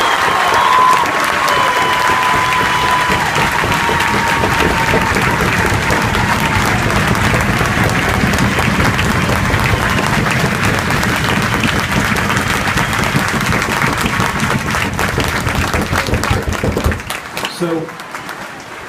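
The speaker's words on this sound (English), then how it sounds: "Give them a round of applause." Large audience applauding at an Army infantry regiment basic training graduation ceremony for newly graduated soldiers, with dense, loud sustained clapping and some cheering that continues steadily before tapering off near the end.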